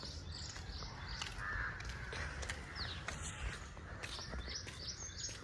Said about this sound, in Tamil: வெறும் காக்கா மட்டும் தான் கத்திகிட்டு இருக்கு.